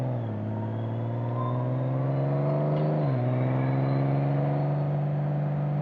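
A 2002 Honda GoldWing motorcycle with 230,000 miles rides on a mountain road, its engine a steady droning hum that dips briefly as it shifts, then holds a constant pitch close by.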